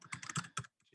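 Rapid keystrokes on a computer keyboard while an email address is typed in, a quick close cluster of clicks with a short pause before a few softer taps.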